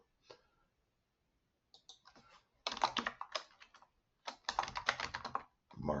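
Bursts of rapid keyboard typing, close and clear, with short pauses between runs of keystrokes.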